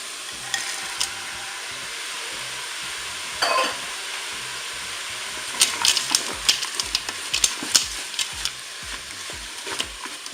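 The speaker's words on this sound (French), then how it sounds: "Je vais maintenant ajouter les poivrons." Bell peppers tipped into a Cookeo for chili con carne set off a soft sizzle, with clattering stirs and scrapes of a utensil that bunch up toward the end.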